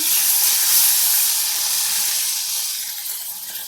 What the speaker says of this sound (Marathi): आणि या शेवग्याचे शेंगा परतवून घेऊया